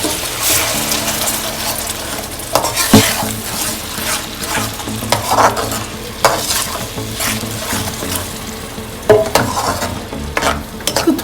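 Onion frying in a pan for meatball curry: a loud, close sizzle under repeated stirring, with scraping and clattering of a utensil against the pan and no voices.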